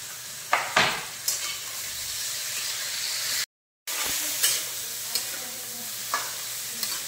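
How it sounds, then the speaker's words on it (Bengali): Cut eggplant pieces with salt fry in a hot pan and are stirred, giving a constant hissing sizzle punctuated by several sharp scraping strokes of a spatula, with one brief silent break midway. "এবার দিয়ে দিলাম কেটে রাখা বেগুনগুলো, সাথে দিয়ে দিলাম পরিমাণ মতো নুন।"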